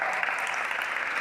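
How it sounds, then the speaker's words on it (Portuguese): A crowd gives a round of applause for a friend being introduced, a short, dense, loud burst of clapping heard alone. "Uma salva de palmas para o Caio"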